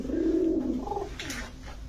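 Domestic pigeons of fancy breeds such as army, pankhi, lalpatti and military coo up close: a loud, throaty, rolling warble in the first second that fades to softer murmuring, with no talking.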